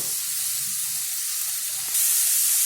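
Carrots and cabbage sauté in a hot pan for momo filling, a steady close sizzle that swells louder toward the end as more vegetables go in.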